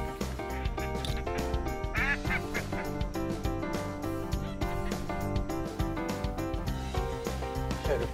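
Ducks quacking repeatedly during a teal hunt, a dense run of nasal calls over a layered background of music-like tones.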